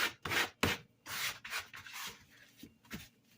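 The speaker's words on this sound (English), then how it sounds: "Scrape all that goodie off of the mat there back into my dough" Dough is scraped off a pastry mat while making tea cookies, giving a series of short, close rasping strokes with brief pauses between them. The strokes are fairly quiet and there is no talk.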